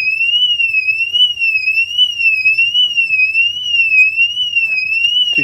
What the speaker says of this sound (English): Okay, the alarm will fire off.